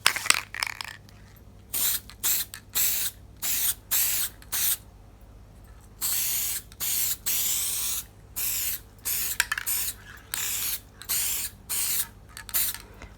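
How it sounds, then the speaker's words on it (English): Gold aerosol spray paint hisses in short repeated bursts, close and fairly quiet, with small pauses between each spray. "now I'm going to be using this gold spray paint and spraying the whole thing."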